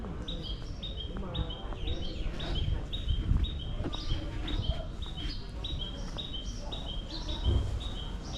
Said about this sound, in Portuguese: Agora é momento de contemplar e apreciar a natureza, ouvir os cantos dos pássaros.